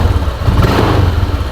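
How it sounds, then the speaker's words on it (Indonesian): Honda Vario scooter engine sputtering as the throttle is opened, a loud, close, uneven low chugging with rough misfiring pulses, heard alone without speech. "Nih, kalau kita tarik throttle gas seperti ini"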